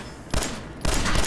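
Rapid automatic gunfire from a turret in Fallout 4, in two dense, loud bursts fired in quick succession, close and harsh with no talk over it.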